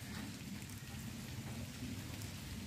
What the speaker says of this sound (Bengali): এত বৃষ্টি পড়ছে, যা ভিজে ভিজে এলাম বাবারে